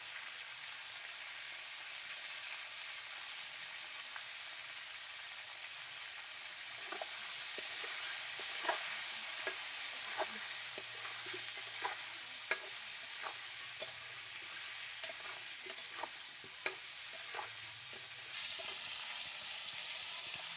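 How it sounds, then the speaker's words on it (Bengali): Cauliflower fries in a pan with salt and turmeric, a soft even sizzle punctuated by regular light taps and scrapes of a spatula. "এই যে আমার সবজিটা খুব সুন্দর করে ভাজা হয়ে গেছে"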